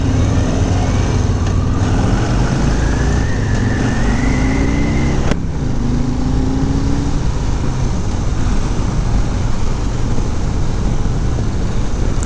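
A 2021 Harley-Davidson Street Bob 114 motorcycle on the move, with a steady, loud engine and road roar running throughout, some gear-shift pitch changes early on, and a sharp knock around the middle.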